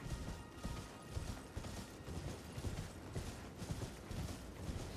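Hooves of Torrent, the spectral horse in Elden Ring, clatter in a steady galloping rhythm, low and fairly quiet, with a faint mechanical creak beneath and no talking.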